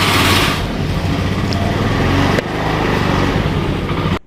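Motorcycle ride captured on a B-Pro5 Alpha Mark 3s action camera with an external mic and no waterproof case: a loud continuous engine and wind roar, steady throughout, with a brief dip near the start and an abrupt cut at the end.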